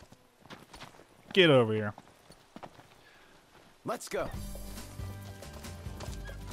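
A chocobo from Final Fantasy XV comes running up after a whistle, its clopping footsteps and a bright warbling call arriving amid game music and ambience, with someone talking over it.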